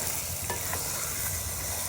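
Chicken being stirred and fried in a clay pot over a mud stove, giving a steady close sizzle with a few soft scraping strokes of the stirring spoon.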